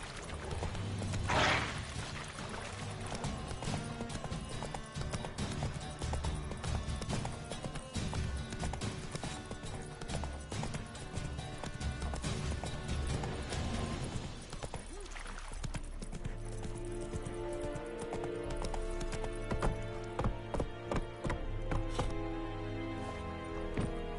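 Roach the horse gallops in The Witcher 3, a rhythmic clip-clop of hooves that runs on steadily and close, with a short snort or whinny and game ambience around it.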